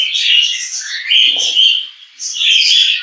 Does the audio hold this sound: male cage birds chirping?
yes